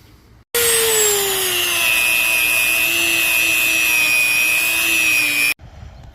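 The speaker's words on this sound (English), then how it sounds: "take the sander to what I can't" A power sander runs against a car's side panel, a loud continuous high whine with a steady grinding hum that starts abruptly, holds for about five seconds, then cuts off.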